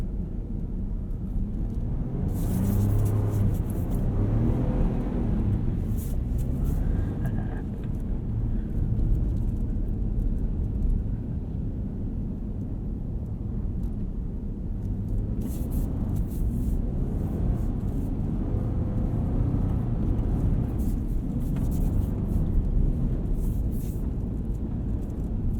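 A 2021 Ford F-150 Tremor pickup on the move, with a continuous deep engine rumble and road noise. Brief louder swells and rattles come through now and then over the steady drone.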